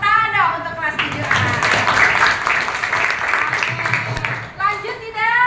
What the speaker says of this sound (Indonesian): Tepuk tangan dong untuk kelas 7A